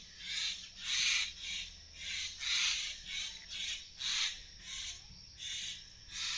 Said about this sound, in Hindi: क्योंकि चिड़ियाँ ही चूं चूं कर रही हैं भाई